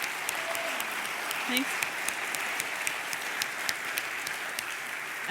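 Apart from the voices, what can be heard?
audience applause for the ladies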